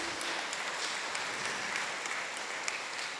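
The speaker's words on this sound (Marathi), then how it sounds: "पहिला आपण जोरदार टाळ्या वाजवूया संपूर्ण टीमशी" Audience at an indoor gathering applauding a team: a faint, steady patter of many hands clapping, heard at a distance, with no voices over it.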